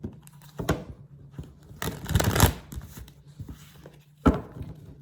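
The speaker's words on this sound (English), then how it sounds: "One more shuffle." A deck of cards is shuffled close by in a quiet room, with a few short riffling bursts, the longest in the middle, separated by soft pauses.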